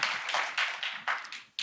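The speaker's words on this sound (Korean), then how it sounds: "박수를 받고자 살짝 뜸들인 건 아닌데 고맙습니다" Audience applause at an education administration forum, a burst of clapping from a seated crowd that swells in uneven waves and fades out over about a second and a half.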